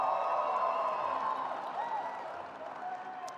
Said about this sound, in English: Clap whenever you feel led, all right?